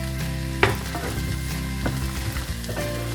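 Grated fresh coconut roasts in a little oil for a Malvani onion-coconut masala, giving a steady close sizzle with occasional sharper crackles and stirring scrapes under soft background music.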